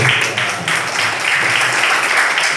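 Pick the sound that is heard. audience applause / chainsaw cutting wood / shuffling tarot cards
audience applause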